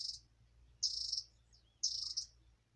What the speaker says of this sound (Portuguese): Aqui você só escuta o barulho dos pássaros, das galinhas.